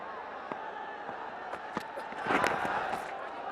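Crowd noise at a Bangladesh Premier League T20 cricket match in a stadium, a distant murmuring roar with scattered claps and shouts that swells briefly near the middle, heard under steady commentary.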